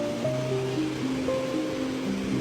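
Sea waves wash and roll steadily at a beach, a continuous broad surf hiss at moderate level with a few faint tonal sounds in the background and no talk.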